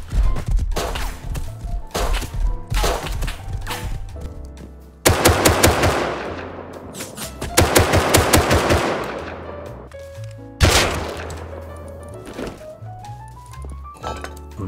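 AK rifle firing in a video game, rapid automatic bursts repeated several times with pauses between them, loud and sharp, ending in a heavy thud.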